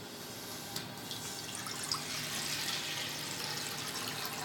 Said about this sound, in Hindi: अभी मैं पहले पैन गरम हो गया है, इसमें पानी डालूंगी